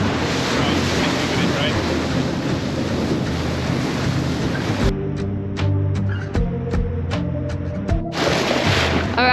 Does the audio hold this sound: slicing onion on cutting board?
no